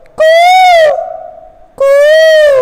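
Asian koel calls from a played recording: two loud, drawn-out tonal calls with rich harmonics, separated by a lingering fading tail, with no voices over them.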